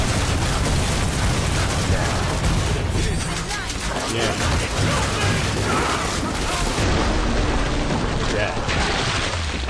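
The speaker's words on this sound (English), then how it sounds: "That plasma cannon of hers just decimates health in seconds." A plasma cannon firing in a video game, dense loud booming blasts and crackling impacts running nonstop through the whole stretch, with a voice speaking briefly over the barrage.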